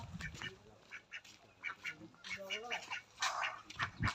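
Village farm ducks quack repeatedly close by in short, nasal bursts, several calls overlapping with a faint voice in the background.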